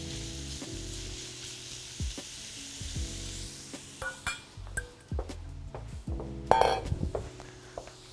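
Ingredients sizzle and fry in a pan while being stirred, a soft continuous crackle broken by clinks and scrapes of a utensil against the pan, close and fairly quiet.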